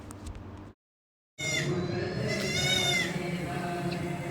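Goats bleat on a farm where mixed goats are kept for sale, with a loud, wavering bleat standing out near and clear over a continuous background murmur.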